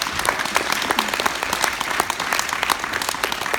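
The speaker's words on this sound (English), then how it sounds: "Ladies and gents, let's go to give another round of applause for our awesome panel." A TEDx panel audience on esports and gender gives another round of applause, many hands clapping in a continuous bright, even patter from start to finish.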